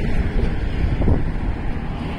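Strong wind buffets the microphone at a viewpoint over the Bhima River dam with open gates, a loud continuous low roar and rumble that stays steady throughout, with no voices.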